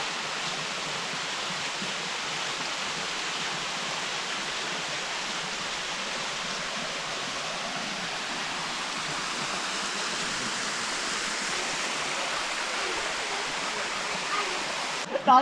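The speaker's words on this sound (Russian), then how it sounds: "Вот он, собственно, и водопад." Waterfall on Ko Chang island, a steady broadband rush of falling water that holds even and unbroken throughout, close and fairly loud with no voices over it.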